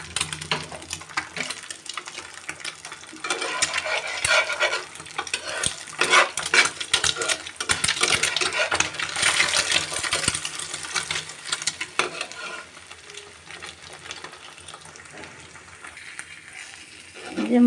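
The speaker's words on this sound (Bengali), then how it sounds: "প্রথমে আমি ডিমটা পোচ করে নিচ্ছি।" An egg fries in a salted wok on a stove, giving a close, loud, continuous sizzle with scraping and clinks of a utensil against the pan. The sizzle swells and fades over a long stretch without speech.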